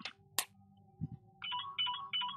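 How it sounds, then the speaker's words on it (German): A telephone rings during a Last Epoch gameplay recording, a few short electronic warbling bursts in a quick repeating pattern after some clicks and soft game sounds. "Nein, nicht Telefon. Ich nehme nicht ab."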